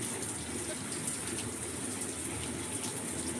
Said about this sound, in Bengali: আজকে যা বৃষ্টি হচ্ছে দেখে মনে হচ্ছে না আজকে বৃষ্টি কমবে